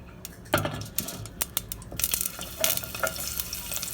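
Onions frying in corn oil and olive oil give a bright sizzle, punctuated by irregular scraping and clinking of a utensil stirring the pan, fairly close and without talk.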